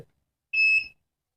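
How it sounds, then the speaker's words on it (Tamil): A single short electronic beep sounds from an Arduino rain sensor alarm as it is sprayed with water, a clear high tone lasting under half a second, with a faint click before it and silence after. "ஸோ அதனால் நமக்கு இந்த இடத்துல பீப்ஸ் ஒன் வருது"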